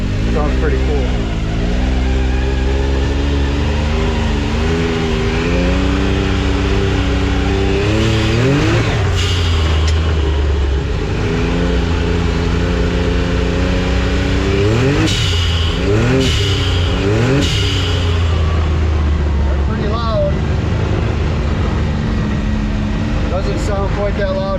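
Driven with a panel off, a 2021 Can-Am X3 with an RPM blow-off valve repeatedly accelerates and lifts off. Loud close engine roar is broken by sharp hissing valve releases, several in quick succession, between stretches of steadier cruising.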